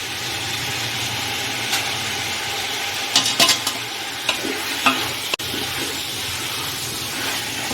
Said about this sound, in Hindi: गैस तो हमारा बड़ा ही है, गैस को कम नहीं करना है, अच्छे से भूनना है इसको।